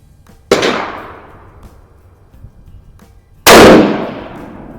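Two gunshots from a Savage Axis 22-250 rifle with a Boyds stock, AccuTrigger and Cabela's scope at a shooting range, loud sharp cracks about three seconds apart, each trailing into a short outdoor echo, the second louder.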